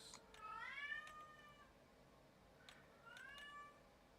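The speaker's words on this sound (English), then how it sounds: "Kitty is losing its mind," A house cat meows loudly with drawn-out, rising-falling cries, one long call followed by a pause and then a couple more shorter meows, all close by with no talking.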